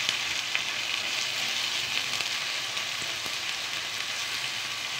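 Shawarma meat and plenty of onions fry in a pan with only a little oil, giving a steady, dense sizzle that holds evenly close by throughout, with no talking.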